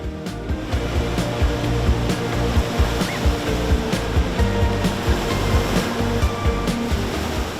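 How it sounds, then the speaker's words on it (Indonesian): Ocean surf breaking at a beach in Gunungkidul, Indonesia, where surfers wait for waves: a steady, close, full roar of crashing water that runs the whole time with no voices. "kami harus menunggu ombak yang tepat sebelum beraksi"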